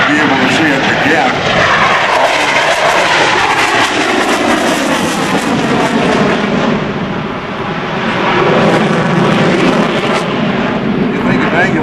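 A CF-18 Hornet jet taxis at the 2004 NAS Oceana airshow, producing a loud, continuous broadband roar that dips briefly and then builds again. A voice may be talking under the noise.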